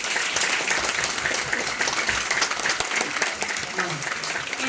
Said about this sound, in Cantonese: 好，大家再俾一個熱烈嘅掌聲。